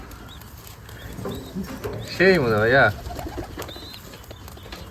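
A Giribaj pigeon at a pigeon farm in Rajshahi gives a low, wavering coo close by, with someone talking briefly around it and soft background noise.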